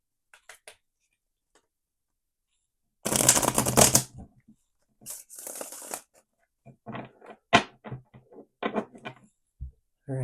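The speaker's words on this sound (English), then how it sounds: "Shuffle it 4 times just for you." A tarot card deck being shuffled, with a dense close riffle of cards followed by a shorter second burst and then scattered soft taps and clicks as the cards are squared and handled.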